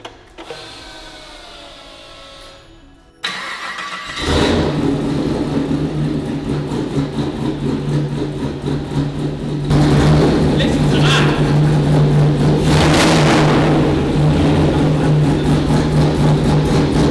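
An LS3 V8 engine with its ancillaries connected and the O2 sensors unplugged cranks and catches at about four seconds, then idles lumpy and loud before a stronger rev near ten seconds, with brief voices nearby.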